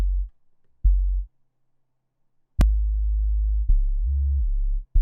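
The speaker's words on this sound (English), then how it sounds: "For the sub oscillator, I went down -3 semitones because it's a sub bass." Serum sub oscillator sub bass pitched down three semitones, sounding as a few deep, sustained low tones with short gaps between them, plain and alone.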